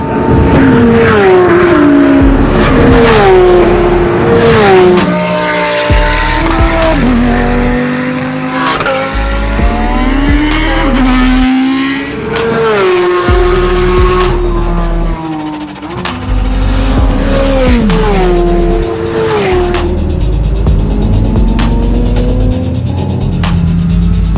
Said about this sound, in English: an invite-only, completely unsilenced Supercar track day